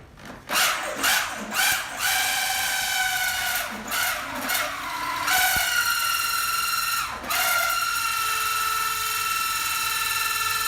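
An ordinary power drill bores a hole during a split air conditioner installation, whirring in several short bursts that rise and fall in pitch, then running in longer sustained spells as the bit works through.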